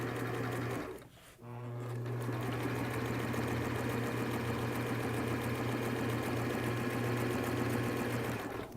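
A sewing machine back-stitches fabric for a cancer patient's cap, running with a steady close whir, pausing briefly near the start, then continuing evenly.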